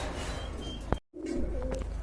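Running pigeons coo in low, throaty bursts near at hand, broken by a brief sharp knock and a moment of silence before the soft cooing resumes.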